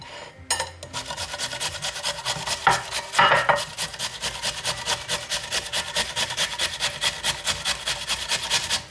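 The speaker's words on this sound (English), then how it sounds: "And you just want to grate the whole potato" A whole potato is grated by hand on a grater over a saucer, producing close, steady, rapid rasping strokes in an even back-and-forth rhythm that continues throughout.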